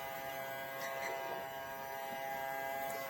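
Kids' toy vacuum cleaner with swivel head switched on, a faint steady electric motor whine and buzz running throughout.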